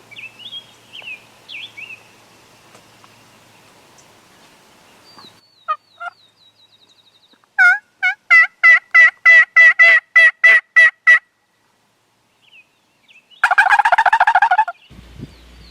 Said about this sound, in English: He's responding to gobbles